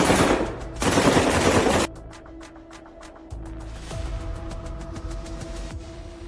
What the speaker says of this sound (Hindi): सैनिकों ने सीधी गोलियां चलानी शुरू कर दी।